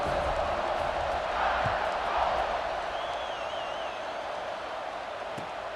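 A packed stadium crowd in the College Football 26 video game roars before a Georgia kickoff: a broad, steady, distant wall of cheering that fades slightly toward the end.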